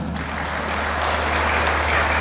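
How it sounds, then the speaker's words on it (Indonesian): An audience at an ecumenical Christmas service in Sibolga claps together, a steady, dense wash of applause rising slightly toward the end over a low hum. "Mari tepuk tangan."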